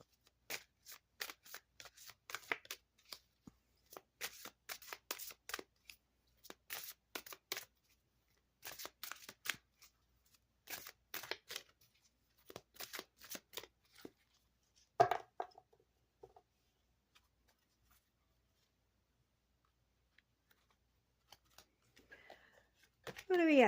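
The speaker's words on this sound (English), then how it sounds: "These cards are so big, it's so hard to shuffle them." Large tarot cards are shuffled in repeated bursts of riffling and slapping, close and clear, then a pause and a few softer shuffles.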